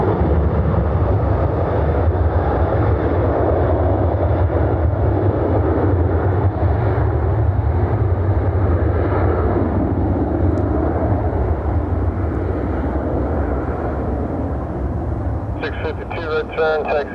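A steady, loud roar of aircraft noise at Cleveland Hopkins airport fills the whole stretch, dense and continuous, with talk heard over it near the end.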